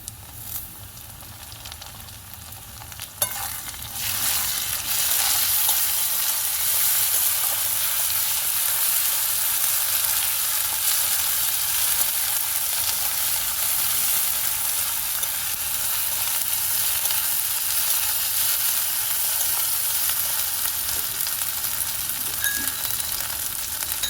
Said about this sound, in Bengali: দিয়ে দেবো আমি আদা রসুন বাটা।